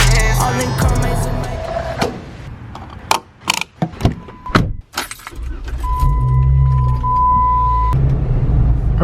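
A Jeep Wrangler Rubicon drives 4x4 woodland trails at night, its engine a steady loud rumble with clunks and jangling rattles from the cabin and suspension, the noise dipping briefly midway before resuming.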